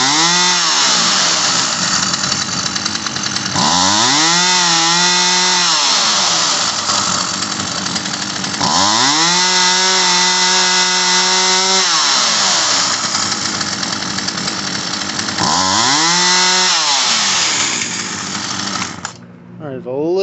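Poulan Pro 222 38cc chainsaw with a repaired carburetor fuel line and primer bulb. It idles loudly nearby and revs up in four rising and falling surges, bogging slightly as the trigger is first squeezed.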